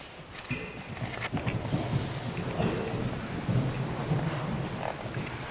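A horse in a riding lesson moves across an outdoor arena, with soft hoofbeats thudding in an uneven rhythm over wind and rustling.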